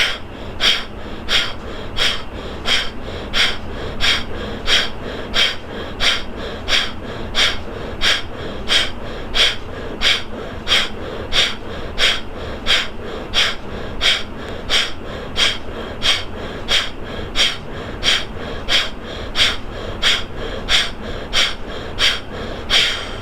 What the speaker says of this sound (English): Kapalabhati, again, one stroke means one exhalation like this.